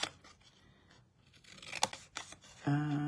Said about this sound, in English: Okay, cut these, because it does make a difference the way that you cut them.